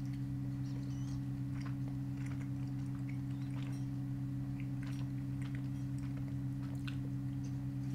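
Someone chews hard, brittle Kango Tutti Frutti bubblegum close up, with irregular wet clicks and squishes over a steady low electrical hum, no talking.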